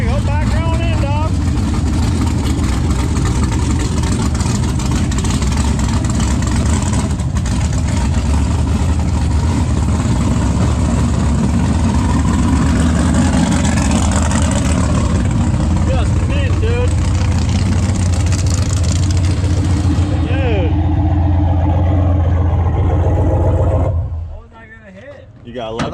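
Nissan 240 driven hard, its engine droning loud and close with a constant low rumble and road noise, then cutting away abruptly near the end; voices talk over it.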